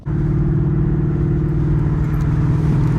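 Steady, loud rumble of a 2019 Ford Mustang GT 5.0 V8 in fourth gear with a slipping Vengeance stage 2 six-puck twin-disc clutch, droning evenly and close throughout without talk.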